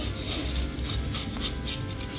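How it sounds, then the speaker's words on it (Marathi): Jaggery rubbed across a small kitchen grater, a continuous rhythmic scraping with regular strokes, close and fairly loud with no talk. "पाणी गरम होते तोपर्यंत मी हे गुळ किसून घेते"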